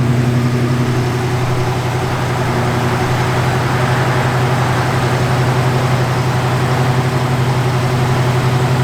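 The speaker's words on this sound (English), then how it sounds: "Yeah, that idle should come down a little more." A 1965 Ford Mustang 2+2 idles steadily, a loud, even low rumble that holds constant throughout with no speech.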